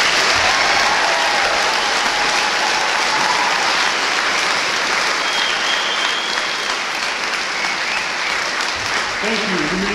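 A high school graduation crowd gives a long, loud round of applause for the graduating class, dense continuous clapping filling the whole stretch with faint voices and cheers mixed in.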